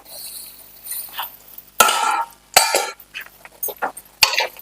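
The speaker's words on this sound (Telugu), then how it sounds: "ఒక 1 minute ఇది మంచి కుక్ అయిందాక మూత పెడదాం." A lid goes onto a pan of frying parval, or pointed gourd, with loud metallic clanks and clinks. Several sharp knocks come close together among quieter clattering, and no one speaks.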